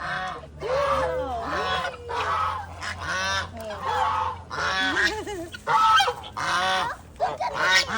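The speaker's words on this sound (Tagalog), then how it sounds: "Chicken, look at the chicken." Farm fowl call loudly and close in repeated honking, clucking bursts with short gaps between them. A low hum runs underneath.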